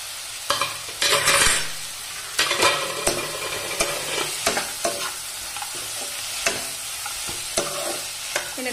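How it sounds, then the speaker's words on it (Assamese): Cashews, tomato and onion frying and being stirred in a pan for butter paneer masala, with a steady sizzle broken by repeated scraping strokes of a spoon, close up and with no talking. "এনেদৰে আকৌ 5 মিনিটমান ভাজিব লাগিব।"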